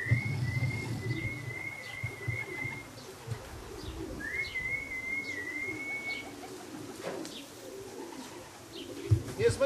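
Racing pigeons arriving at their loft coo softly in the open air, with a few chirps and faint wing sounds against quiet outdoor background noise.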